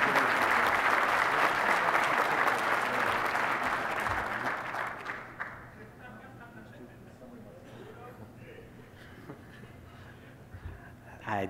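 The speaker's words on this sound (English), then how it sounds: "after we have a round of applause" An audience at a youth soccer awards ceremony applauds an award winner, with loud, dense clapping that fades after about five seconds into quieter room noise and scattered faint sounds.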